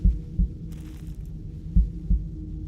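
A low, thudding heartbeat from the video game Into the Radius 2 pulses in two double-beat pairs, muffled and deep, with faint background hum between beats.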